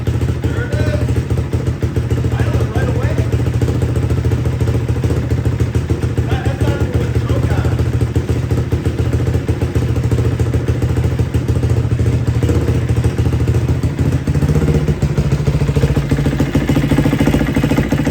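A Kawasaki KX250F dirt bike's engine runs continuously up close after repairs, a loud, rough, clattery drone with thumping pulses throughout.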